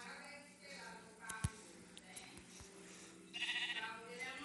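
Blocky farm sheep in Minecraft PE bleat a few times amid ambient game sounds, with a sharp click and a brief rise in activity near the end, and no one talking.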